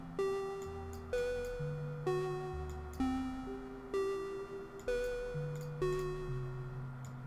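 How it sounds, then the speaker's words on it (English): An under-style ARP synth arpeggio preset from the ElectraX2 bank, part of a remix, plays repeating stepped note patterns in regular bursts roughly every second over a low bass line, steady and clear with no talking. "Which is the under ARP in an Electra X2 bank."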